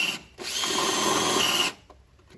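A power drill whirs loudly for about a second, spinning up and holding a steady high whine before cutting off, during work on a 2006 Chevrolet Impala sunroof water leak.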